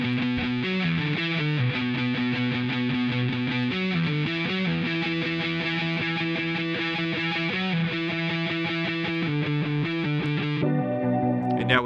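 A distorted, effects-laden guitar riff plays steadily, brightened by a 2 kHz boost from the UA Hitsville EQ plugin, with no talking over it and a change in tone near the end.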